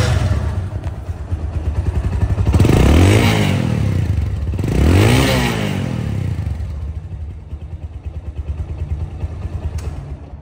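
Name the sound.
second-hand motorcycle engine running and revving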